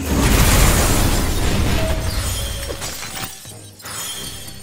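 Knack's sunstone shockwave in the video game Knack bursts outward to destroy robots, a loud sustained boom with shattering, crunching debris that gradually thins and fades, then swells slightly again.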